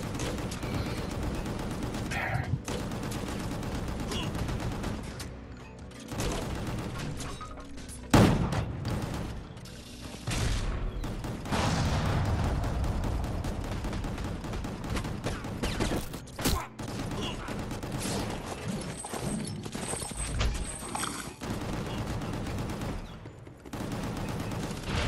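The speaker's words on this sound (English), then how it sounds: "you can't hardly hear the gunfire sound effects" Rapid gunfire from the video game Gungrave G.O.R.E, sustained volleys and bursts layered over loud game music and explosions, continuing with short dips throughout.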